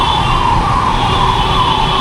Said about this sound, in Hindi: अरे यार देखो ट्रैफिक, एम्बुलेंस को रास्ता नहीं दे रहे।